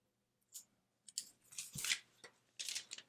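The clear top layer of transfer tape, used for glass etching with Armour Etch, peels away in a few short crackly bursts of ripping and crinkling, close and fairly quiet, with no talk.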